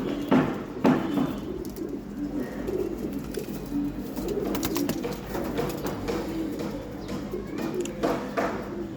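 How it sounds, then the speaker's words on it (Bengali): Male pigeons in a loft give soft, low cooing calls that rise and fall continuously, moderately close, with a little faint background noise and no talking. "নর কবুতরগুলো এখানে আছে,"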